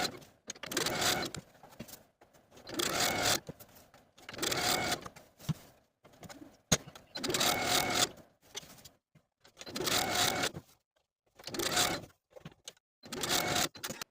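Sewing machine top stitching binding to a blouse neckline, running in repeated bursts of rapid mechanical stitching separated by short pauses, close and clear.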